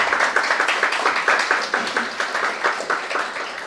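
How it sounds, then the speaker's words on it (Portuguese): Audience at a municipal chamber Pink October event breaks into applause, a dense steady clapping of many hands, fairly close and continuous. "Por gentileza, uma salva de palmas."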